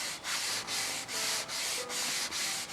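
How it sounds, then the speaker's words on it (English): A big carbide sanding block rasps back and forth over a model aircraft part in steady, rhythmic strokes, about six even passes, close and fairly quiet. "take that big carbide block and dress the rest"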